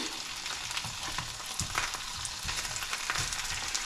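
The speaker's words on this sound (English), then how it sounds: "I'm going to let it fry a little bit here" Pork chops frying in a pan on an electric hot plate, a dense continuous sizzle with scattered crackles and pops, close and steady with no talking.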